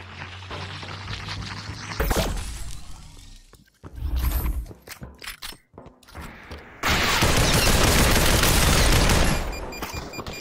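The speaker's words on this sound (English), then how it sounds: "they're shooting at me right now" Video game gunfire arrives in rapid bursts: a heavy boom, then sharp cracking shots and mechanical clatter, ending in a long, loud, dense stretch of continuous automatic fire.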